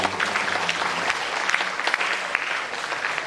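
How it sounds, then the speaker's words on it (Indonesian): Audience applause at an Indonesian arts symposium session, a steady dense wash of many hands clapping throughout, fairly loud and without talk. "Mari kita beri tepuk tangan yang meriah."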